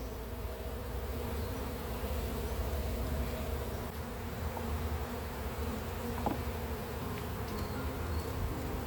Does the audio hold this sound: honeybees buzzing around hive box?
yes